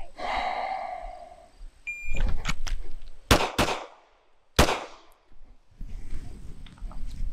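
Several sharp, loud gunshots on an outdoor range during a timed shooting drill with a red-dot-sighted handgun, preceded by a start beep and spaced in a quick irregular string.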